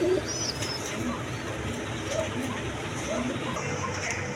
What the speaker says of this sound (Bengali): এখানে আরেক পেয়ার আছে দুধ খাকি কবুতর